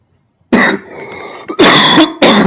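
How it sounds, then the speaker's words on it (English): Several loud, harsh coughs close to the microphone, coming in quick bursts separated by short pauses. "Battling a bit of a cough, sorry."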